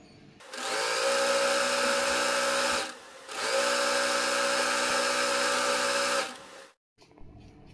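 A sewing machine stitching a straight seam on plazo pants, two long, steady whirring bursts separated by a short pause, followed by faint clicks at the end, no voices.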